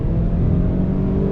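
Ford Maverick pickup accelerating hard, its engine revving in a steady, loud, close rumble that holds throughout the short burst.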